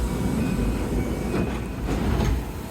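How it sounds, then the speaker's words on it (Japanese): Hanshin train leaving Amagasaki station, a continuous loud rumble and rattle of the carriage from on board, with faint rhythmic clatter and no talk. "尼崎駅を発車。"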